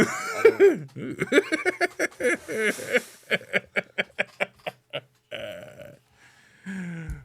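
Nearby voices break into a rapid string of short, choppy coughs or laugh-like bursts, evenly paced, then a pause and a few more sounds.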